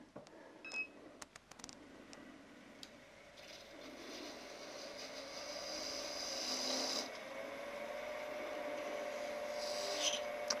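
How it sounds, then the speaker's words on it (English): A 1/4 inch spindle gouge hollows a small wooden goblet on a lathe, giving a steady scraping hiss that slowly builds over the hum of the spinning wood, with a few clicks at the start. "I'm going to use a 1/4 inch spindle gouge, which is sharpened to 25 degrees."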